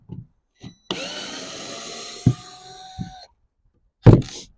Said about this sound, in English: Back out the screw.